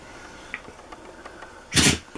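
A husky sneezes once, a short loud burst near the end after a quiet stretch with faint small sounds.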